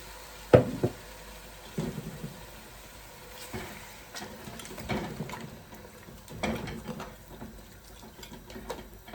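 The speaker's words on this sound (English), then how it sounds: "So now I'm going to pour 1 cup of water on my lamb neck." A cup of water is poured onto lamb neck in a hot pot for brown stew, giving scattered sizzling bursts and a few knocks of the pot, spread out over several seconds.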